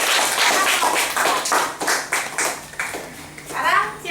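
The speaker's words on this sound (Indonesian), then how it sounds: "beri tepuk tangan untuk kelompok 1." A classroom of children claps for a presenting group in a patterned, rhythmic series of close, sharp claps that slows and breaks up near the end, with young voices calling out over it.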